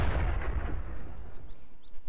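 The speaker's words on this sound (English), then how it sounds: "Now I'm just blind shooting into this KV-3, because I'm hoping that he's tracked there, and then I'm just pounding a shot." A tank cannon in World of Tanks fires blind at a KV-3 as a deep, rumbling boom that fades into a dull low tail, with a few faint high chirps near the end.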